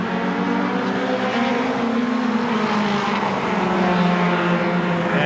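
Super short track race cars run nose to tail in a 2018 race, their engines producing a loud, continuous droning whine with shifting pitch as the pack circulates close by.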